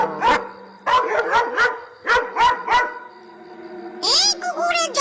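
A cartoon dog in an animated Bengali folk story barks in quick bursts of two and three sharp yaps, loud and close, ending with a higher whining yelp.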